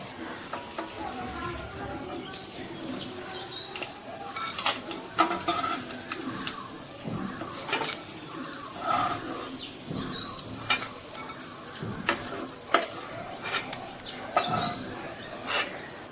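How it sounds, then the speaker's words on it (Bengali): Small fish frying in hot oil for a Bengali chorchori, a soft steady sizzle with scattered clinks of a utensil against the pan, close and moderately quiet, with no talking. "মাছগুলো আমার প্রায় ভাজা হয়ে গেছে।"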